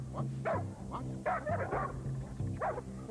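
A protection dog barks on alert during a training demonstration. A run of sharp, loud, close barks sounds in quick succession, mixed with a few higher yips.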